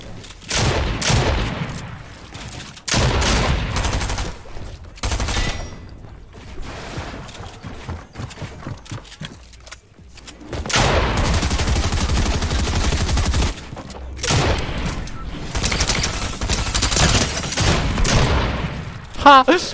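Bursts of video game gunfire, rapid automatic volleys and single shots, come in several loud clusters with quieter gaps, and someone talks and reacts between and over the shooting.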